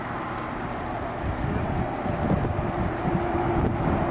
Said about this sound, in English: I can hear the flag. Yeah, flapping. Oh, flapping in the wind.